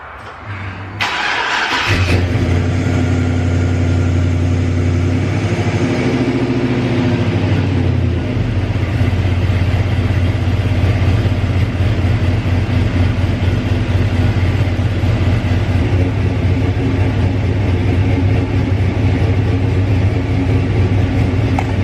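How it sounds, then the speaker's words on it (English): An LS-swapped Oldsmobile Cutlass V8 cranks briefly, catches and settles into a loud, steady idle, running on close up for the rest of the clip. "let's see if it fires up"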